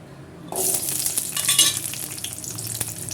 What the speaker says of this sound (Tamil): அதே எண்ணெயிலே வந்து இப்போ சின்ன வெங்காயம் சேர்த்துக்கணும்